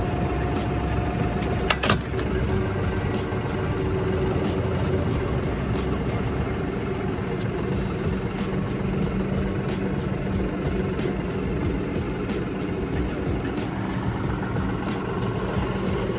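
A tractor engine runs at a steady idle close by, making a continuous low rumble that barely changes for about sixteen seconds, with a few faint clicks and knocks on top.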